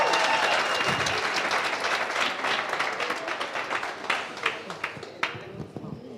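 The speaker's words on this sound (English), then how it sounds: "Can we give our pitcher another round of applause," Audience at a business workshop in Katlehong applauds a pitcher with sustained, dense clapping that gradually thins into scattered claps, with faint voices mixed in.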